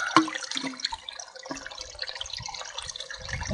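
A water bottle is held in a mountain stream and filled, with soft gurgling and bubbling splashes over running water, close and fairly quiet.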